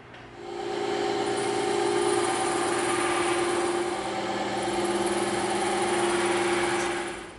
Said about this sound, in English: we're gonna make our cuts on the bandsaw